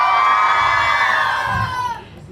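A crowd of children at an organised event lets out a loud sustained cheer and whoop, swelling then fading out over a couple of seconds.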